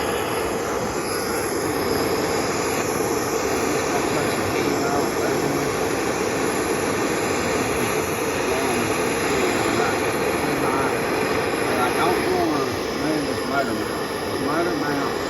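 A small torch roars steadily while heating a damaged race car frame in a shop, a loud continuous broadband rush with no breaks, running close and constant throughout.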